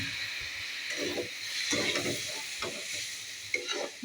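Water poured a little at a time onto dry-roasted semolina in a hot kadai hisses and sizzles steadily, with soft stirring scrapes rising and falling throughout, close and fairly loud with no talking.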